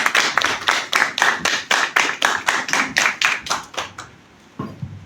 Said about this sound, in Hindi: तो जोरदार वाली ताली इस तीनों के लिए।